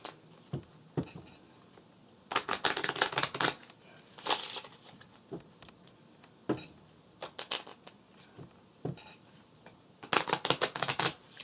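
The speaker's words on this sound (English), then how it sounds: "When you shuffle this like that too, it takes out that stiffness out of the cards" Playing cards being shuffled in quick riffling bursts, crisp and close, with short pauses and softer handling sounds between.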